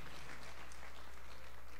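Church congregation applauding in unison, a dense, steady patter of clapping filling the room, with low hum underneath and no pauses.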